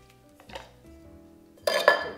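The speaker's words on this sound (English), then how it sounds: "first step for the sauce is chopping the tomatoes. So I'm gonna just cut it into 4 and put it in there." Quartered tomatoes go into a container for sauce: a quiet stretch with faint knife taps, then a loud, close clatter of pieces landing in a dish near the end.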